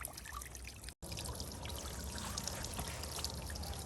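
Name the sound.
POPOSOAP solar fountain pump spraying water through nozzle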